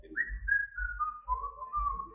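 A singer whistles a slow, wavering melody at the end of "Sitting on the Dock of the Bay", clear and up front over a soft, pulsing low backing.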